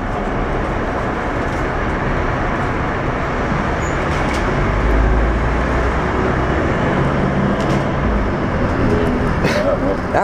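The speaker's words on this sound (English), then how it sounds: "The buses sound like weird drills and chainsaws in this bus station." A Dennis Trident double-decker bus (ALX400) idles and moves inside the enclosed Aylesbury Friars Square bus station, with a loud, low, rumbling engine drone that holds steadily throughout, swelling slightly midway, amid reverberant station noise.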